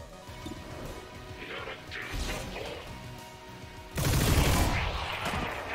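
A spinning-barrel gun firing in XCOM 2, building from scattered impacts into a loud, dense, sustained burst of rapid fire with crashing hits and whooshes.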